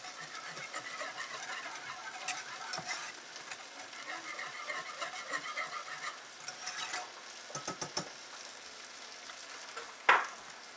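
A sauce is stirred in a pan as it heats toward boiling, giving a soft continuous sizzle and bubbling with light scraping strokes and a few clinks of the utensil, one sharper knock near the end, fairly quiet.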